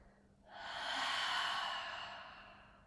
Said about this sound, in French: Expirez par la bouche. Encore.